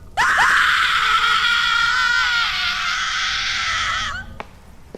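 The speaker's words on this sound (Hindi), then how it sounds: "तभी अचानक से किसी के चिल्लाने की आवाज आती है।" A loud, piercing scream rings out close by, held for several seconds before breaking off, followed by a brief thud.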